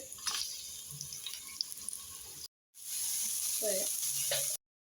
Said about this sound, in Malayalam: രണ്ടല്ലി വെളുത്തുള്ളി അരി ചേർത്തിട്ട് ബാക്കി സബോളയും ചേർത്ത് നല്ലപോലെ ഒന്ന് വരട്ടി കൊടുക്കാം